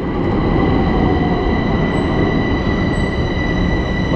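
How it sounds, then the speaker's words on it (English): Bucharest Metro M5 Orange Line train arriving at a station platform near Eroilor, a loud, steady rumble with high metallic wheel squeal and faint ringing tones, continuous and close, with no talking. "I think this is our train"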